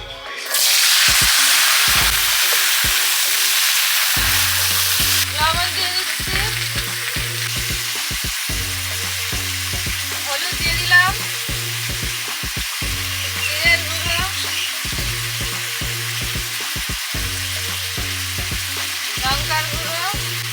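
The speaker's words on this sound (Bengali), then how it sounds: "মাছ ভাজার তেলে সবজি দিয়ে দিচ্ছি আলু পটল" Loud, steady sizzle of potatoes and pointed gourd frying in oil left from frying fish, with a sharp burst at the start and repeated scraping and stirring knocks throughout.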